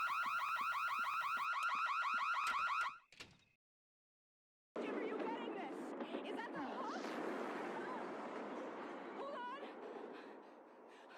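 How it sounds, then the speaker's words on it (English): A burglar alarm in The Sims video game sounds as a loud, rapidly pulsing electronic tone for about three seconds, then cuts off abruptly and is followed by a brief silence and a different, noisier sound. "When he appears, a startling and fear-inducing song begins to play, as well as a loud alarm."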